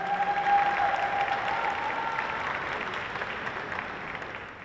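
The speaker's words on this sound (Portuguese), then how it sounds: "Salva de palmas, Marquinhos." Applause from a crowd at a formal ceremonial session, a dense steady clapping that slowly fades over a few seconds.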